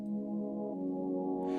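A sustained synth pad chord, part of an amapiano track built in FL Studio, plays alone at steady loudness with a slight change in voicing partway through.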